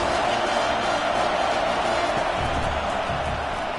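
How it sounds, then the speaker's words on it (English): Stadium crowd in a college football video game, South Florida at Michigan State, a dense, continuous roar of many voices filling the space at steady volume, with no single cheer standing out. "Listen to this crowd just shaking the girders of this place, trying to help their defense."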